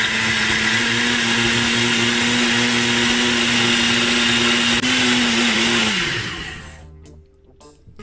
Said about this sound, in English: You want to blend it until everything becomes really fine.